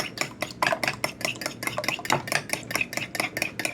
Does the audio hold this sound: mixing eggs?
yes